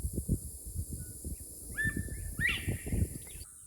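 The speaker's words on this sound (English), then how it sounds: "That's a pine warbler song coming from somewhere in the woods." A pine warbler's fast high trill rings out from the distance in Florida woods over low rustling and handling noise, with a few other faint chirps.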